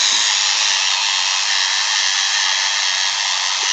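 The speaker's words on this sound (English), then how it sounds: "I also like this motor." Small electric motor of a K'nex Screamin' Serpent roller coaster model running steadily, a close, continuous high-pitched whirring hum with no breaks.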